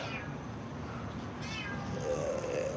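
A stray kitten in Thailand meows a few times at dawn, thin and plaintive, over steady low background noise.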